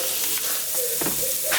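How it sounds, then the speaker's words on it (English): Shrimp sautéing in oil in a frying pan give a steady, close sizzle and hiss with a few brief stirring scrapes. "I'm going to add my shrimp and just saute these just for a couple minutes"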